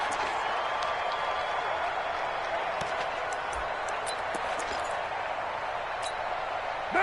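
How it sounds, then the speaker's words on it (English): Stadium crowd roar in an American football video game on PS4, a steady loud wash of cheering and noise from the home crowd during a goal-line play, continuous throughout. "The crowd's not doing that O-line any favors."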